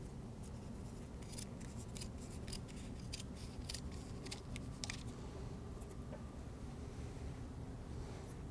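Scissors snip through carbon fabric being cut into pieces for a Hartzell composite propeller trailing edge repair, a series of faint crisp cuts over a steady low background rumble.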